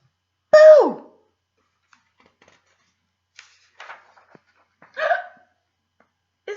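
Toy penguin giving a few short squeaky hiccups, one loud at the start and another mid-way, with tiny clicks and quiet gaps between them.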